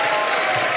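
A studio audience at a comedy talk show gives dense, steady applause for a singer, in a brief, continuous burst of clapping with no talk.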